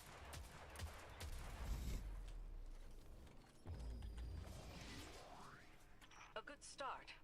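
Gunfire from the video game Destiny, rapid close shots and weapon mechanics in quick bursts, with the level fairly constant and a rising whine toward the end.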